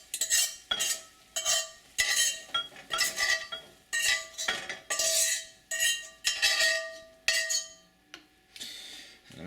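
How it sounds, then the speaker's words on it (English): Fried corn is scooped from a pan into a bowl with a metal utensil, producing a steady rhythm of scraping, clinking strokes about once a second, close and clear with no talking. "let me pick it up and put it in my bowl right here"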